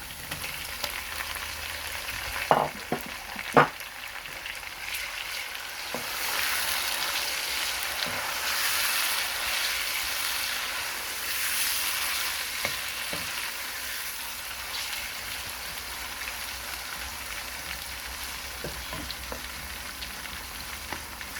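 Tomatoes fry in a pan for lauki chana dal, a soft, steady sizzle that runs throughout, punctuated by occasional clinks and scrapes of stirring; no talking.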